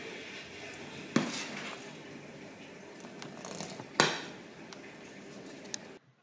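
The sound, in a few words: stirring baghrir crêpe batter with a ladle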